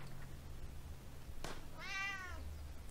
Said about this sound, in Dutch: Oh nee, de kat is back.